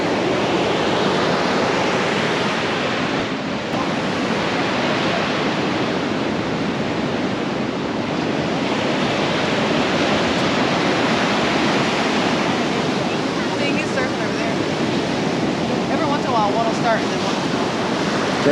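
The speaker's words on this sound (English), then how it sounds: "these crashing waves are too loud" Ocean surf rolls in steadily on a beach where surfers are out, making a loud, unbroken wash of crashing waves close to the microphone with some wind buffeting.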